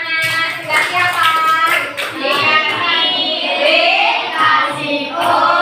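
Children in a classroom clap their hands in quick, uneven bursts while young voices call out and chatter over the clapping.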